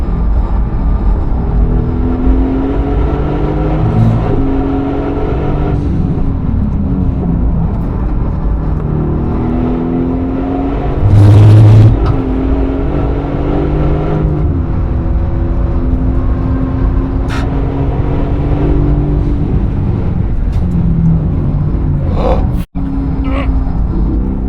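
A race car pushed through the final corners of a lap, loud engine droning and rising and falling as it shifts and accelerates, with a brief louder burst midway and an abrupt cut near the end.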